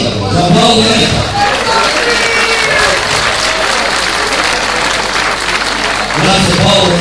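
A crowd gives a big round of applause welcoming the town mayor at a civic event, steady dense clapping mixed with cheers and crowd babble for the whole stretch, loud and close.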